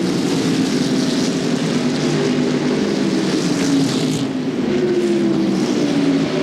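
NASCAR Busch Grand National stock cars racing at Bristol Motor Speedway in 1998, a dense, loud, continuous roar of several engines battling for position, with pitch slowly sliding as the pack circles the track.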